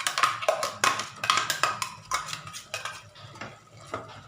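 Ridge gourd curry paste is stirred into a cooking pan, a close run of quick metallic scrapes and clinks of a spoon against the pan, irregular and clattery, fading slightly toward the end, with no talk.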